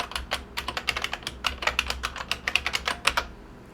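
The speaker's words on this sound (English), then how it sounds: "Be a miracle if I type that correctly." Rapid clicking keystrokes on a computer keyboard as someone types a password, irregular bursts of close, crisp taps over a faint steady hum, with no speech.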